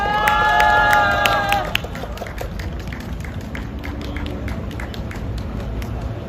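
A street crowd at a presidential election campaign rally for platform and delivery workers' rights claps and cheers for about two seconds, then the noise drops to a low murmur of outdoor ambience with scattered taps.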